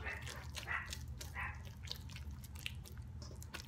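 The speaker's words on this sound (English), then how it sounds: "They're outside barking at people on the street." Dogs bark outside at people on the street, a few yips and barks carrying faintly into a kitchen over a low steady background hum.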